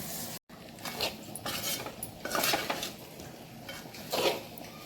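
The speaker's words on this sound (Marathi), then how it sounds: "त्याच्यावर झाकण ठेवूया आपण" A metal lid set on a cooking pot of spiced potato curry on the stove, with a few faint clinks and scrapes of cookware.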